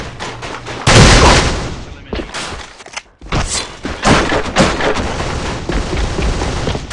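Rapid gunfire and thudding bursts from a competitive online match of the shooter game AVA, loud and dense, with a brief lull near the middle, and voices talking over it.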